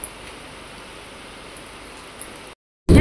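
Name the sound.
heavy rain falling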